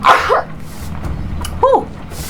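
In the video game Sherlock Holmes: The Devil's Daughter, a dog barks twice, once at the start and again near the end. The barks are close and fairly loud over a low ambient hum.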